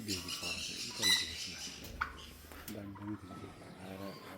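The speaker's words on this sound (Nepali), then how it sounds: "यहाँ चाहिँ टर्की रहेछ, टर्की।" Turkeys in a farm enclosure in West Sikkim gobble in several rapid, rattling bursts, close and fairly loud, with a voice speaking briefly between the calls.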